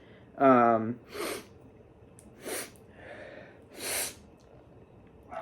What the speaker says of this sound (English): I've been sneezing today